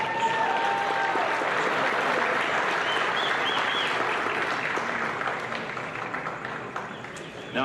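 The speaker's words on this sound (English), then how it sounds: "One more round of applause for the senior boys" Sustained, dense applause from a high school basketball crowd honoring senior varsity boys in a gym, loud and even throughout before tapering slightly near the end.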